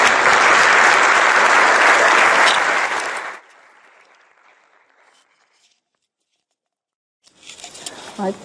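An audience claps warmly to welcome a professor at an education twilight session. Dense, loud applause fills the room, then fades into near silence before a voice begins.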